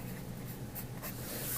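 A crayon scrapes across a large sheet of white paper as a name is written. The scratchy strokes are close and continuous, with no talk.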